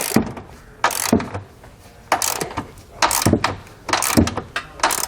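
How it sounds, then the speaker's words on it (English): A ratchet wrench with a 19mm socket tightens the bolts of a Curt trailer hitch receiver on a 2021 Kia Telluride, giving repeated bursts of quick clicking strokes with short pauses between them, close up and with no talk. "Now I'm going to grab a 19mm wrench and socket and just get this tightened down the rest of the way."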